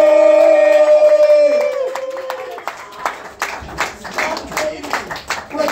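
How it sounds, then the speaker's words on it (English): Audience at a Western Mass comedy competition claps and cheers for a comedian, the applause starting after a sustained musical tone fades and continuing in rhythmic bursts of clapping, with crowd noise throughout. "give a warm round of applause for Dumb"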